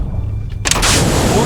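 A WW2 submarine fires a torpedo in a war movie: after a quiet stretch with a low hum, a sudden loud blast of rushing, hissing air bursts in and keeps roaring to the end.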